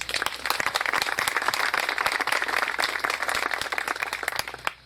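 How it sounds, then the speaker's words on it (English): An audience gives a round of applause at a 9/11 memorial event in Palm City, Florida, honouring a retired ICE agent. The applause is dense and steady for nearly five seconds, then drops off at the end. "Let's give him a round of applause."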